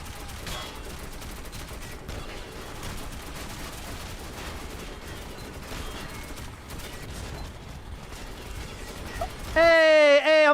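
Video game gunfire crackles in dense, continuous bursts, like machine guns and volleys of shots, under mixed game noise. A sudden loud tonal sound cuts in near the end.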